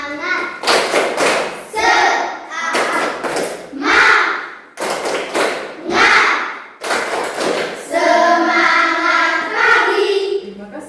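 A class group at a Catholic college presentation claps in a quick, repeated rhythm while chanting together, sharp hand claps punctuating loud voices in short bursts.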